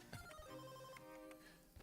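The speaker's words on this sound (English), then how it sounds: "Is your phone ringing?" A phone rings with a repeating electronic ringtone melody, faint and distant in a room, with a couple of soft knocks in the background.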